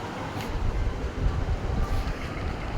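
Steady low rumble and rattle inside a moving train in Bangladesh nearing Dhaka Airport station, continuous and fairly loud with no talk.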